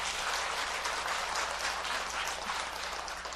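A seated audience at a Buddhist dharma talk during an all-night prayer session breaks into applause, a steady, close patter of many hands clapping continuously without pause.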